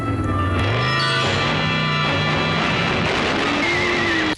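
Horses neigh and whinny over loud, dense film-soundtrack noise during a rodeo scene in the movie The Car, with shrill cries rising and falling through the full length before an abrupt cut.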